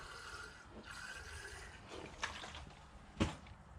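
Rainwater trickles and splashes over bonsai roots in a container during repotting, a soft close pouring sound with a couple of brief louder splashes toward the end.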